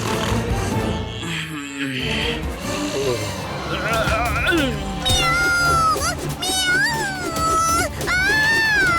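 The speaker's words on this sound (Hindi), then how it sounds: "यहाँ बिल्ली है" A cartoon cat in a Hindi children's robot-boy animated show lets out a series of drawn-out, wavering meows up close, layered over background music and other cartoon sounds.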